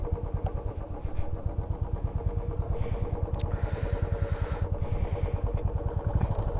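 Several motorbikes, part of a fourteen-bike group ride toward Purulia, rumble nearby with a steady, pulsing engine throb, loud and continuous, with occasional higher rasps over the low drone.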